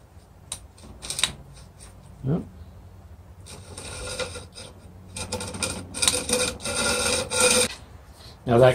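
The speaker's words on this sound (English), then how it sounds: "I'm going to take a file and just take that burr off" A hand file scrapes a burr off the cut edge of aluminum screen framing, with bursts of close, harsh rasping strokes separated by pauses and small clicks and handling noises.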